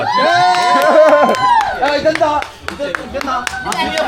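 A small indoor audience gives a few scattered, sparse claps while a voice speaks loudly over them.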